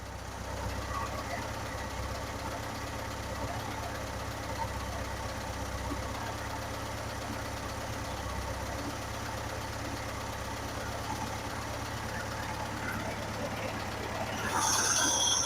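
A 1963 VW Bus air-cooled engine idles steadily nearby with an even low chugging rumble, and a brief louder hiss near the end.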